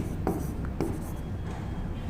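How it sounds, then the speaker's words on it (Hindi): Short scratchy strokes of writing on a board during a Rajasthan general-knowledge exam lesson, a few quick marks, close but faint against room noise. "माही इधर लिख देता हूं"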